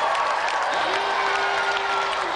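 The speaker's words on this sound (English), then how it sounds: "So let's give another round of applause for Clive Barton and Richard Walkling." A studio audience on a Games Master TV show applauds, a continuous wash of clapping and crowd noise heard throughout at a fairly even level.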